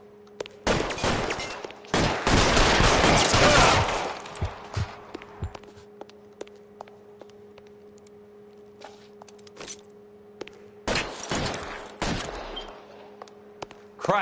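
Gunfire in the L.A. Noire video game, loud bursts of rapid shots in the first seconds, then sparse single cracks, with another cluster of shots near the end over a low steady hum.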